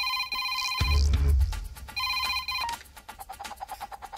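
A telephone rings with bright, repeated electronic trills in two bursts, broken by a loud low thud and a rumble, then softer pulsing tones follow.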